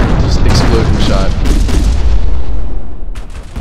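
A space battle in StarDrive 2, heavy explosions and bursts of weapon fire piling into a dense, loud roar that eases off near the end, with no talk heard.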